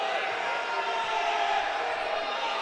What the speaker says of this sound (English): Can start to hear this crowd getting up a little bit more.